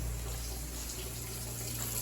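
Tap water running steadily into a kitchen sink, a continuous broadband rush with a low hum beneath, no voices present.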